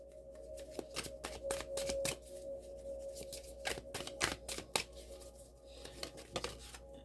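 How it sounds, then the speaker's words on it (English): Star Seed oracle cards shuffled by hand, a steady run of quick papery riffles and slaps close up, with a faint tonal hum underneath and no talking. "I think I'm going to pull from the Star Seed cards as well."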